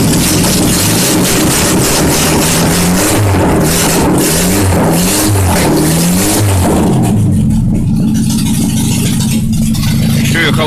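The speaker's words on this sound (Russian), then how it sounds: "Закачиваем, ставим карбюратор, заводим." A Moskvich car engine fires up for its first start after a carburetor is fitted, running loud and close with uneven revving that settles toward a steady idle.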